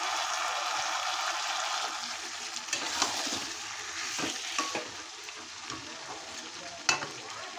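Mutton being stir-fried as kosha in a wok, giving a soft, fairly faint sizzle with a few scraping stir strokes.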